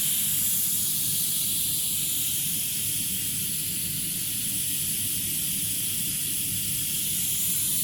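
A rocket stove steam boiler burning waste oil hisses steadily with escaping steam, a loud continuous broadband rush that holds unchanged throughout.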